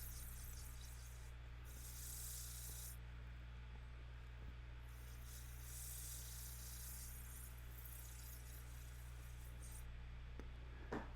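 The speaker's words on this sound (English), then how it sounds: "I'm going to go through the different grits and sand that all smooth." Steady sandpaper rubbing on a turned wooden bowl spinning on a lathe, a continuous close hiss with a constant motor hum underneath and brief pauses between passes, no speech.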